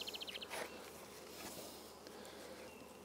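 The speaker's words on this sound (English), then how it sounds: "Gonna give it a box full of bees." Honey bees buzz around a hive box outdoors, a faint steady drone with a few brief pulsing hums close by at the start.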